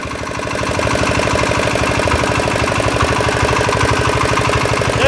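An old, open-fitted diesel engine chugs steadily with a rough, knocking idle rhythm, loud and close, running continuously without pause.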